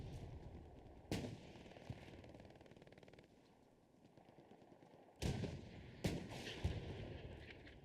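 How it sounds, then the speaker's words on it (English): Gunfire from the Hell Let Loose World War II game: sharp, loud shots at irregular intervals, a few isolated cracks and later clustered bursts, over a constant low battlefield rumble. "Shots coming out on the backside"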